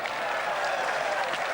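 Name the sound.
audience applause at a petanque match in Marseille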